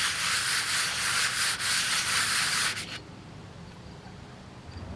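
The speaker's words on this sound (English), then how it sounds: "got different grades of sandpaper. And I'll take this and just do it kind of in a figure 8 pattern." Sandpaper rubbed in a figure-eight pattern over a part from a 1971 Johnson 4hp outboard motor, a steady close, loud rasping scrub for nearly three seconds that then stops, leaving quiet room tone.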